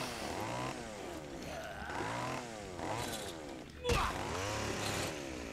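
A chainsaw in Dead Rising 4 revs and whines in rising, falling sweeps, with a sharp hit near the end, while someone talks over it.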